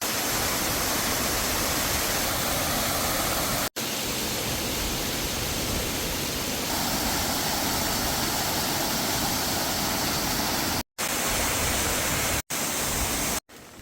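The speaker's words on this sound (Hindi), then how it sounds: "यहाँ पे गदेरा भी है, गदेरा बोलते हैं हम इनको तो यहाँ पे हम पानी भरेंगे और पानी भी पिएंगे।" A mountain stream on the Valley of Flowers trek rushes in a loud, steady broadband roar. It runs close and unbroken for the whole span, with only a few brief dropouts and no voices.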